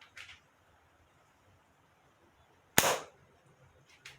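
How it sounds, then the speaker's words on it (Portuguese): A slingshot fires an 8 mm ball, and its band snaps sharply against the fork in one loud, close crack, with faint clicks before and after in a quiet setting. "Agora eu vou atirar com uma esfera de 8 milímetros"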